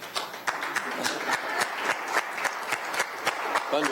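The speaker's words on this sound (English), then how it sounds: "Thunderous applause." Applause from a city council meeting audience: steady, dense clapping fills the room for several seconds at moderate level, with individual sharper claps standing out.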